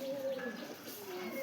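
Fulsera-type pigeon giving a soft, brief coo, faint and close against a low background with a voice present.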